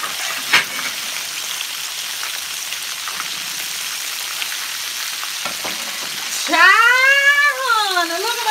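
Perch fillets frying in hot oil in a home kitchen, a soft continuous crackle and sizzle like light rain, with a short clatter near the start and then a high melodic voice entering toward the end.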